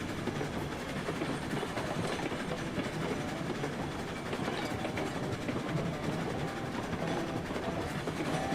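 Steam locomotive hauling a light train up a grade in the railroad simulation game Railroads Online, with steady rolling rail clatter and engine rumble continuing throughout at moderate, even loudness.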